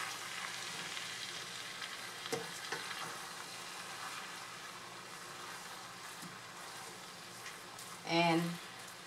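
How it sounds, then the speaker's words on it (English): Steady, crackling sizzle of rice noodles (pancit) with pork and vegetables frying and drying up in a pan, with occasional stirring clatter and a brief louder scrape near the end. "as you can hear, it's sizzling because it's actually drying up"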